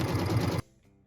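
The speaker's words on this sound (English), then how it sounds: "we can go ahead and do the full block quilting, which is a really pretty kind of star design" A sewing machine quilts a Christmassy star-design block in a short, loud, rapid burst of stitching that halts abruptly, leaving near silence.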